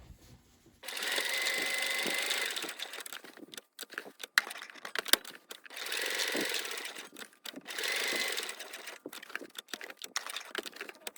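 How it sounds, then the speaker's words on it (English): A sewing machine stitches across the top of a pocket, in bursts of fast mechanical whirring separated by pauses filled with quieter clicks and slow ticks as the hand wheel is turned, close and clear. "I'm going to do 2 stitches across the top of my pocket with my hand wheel"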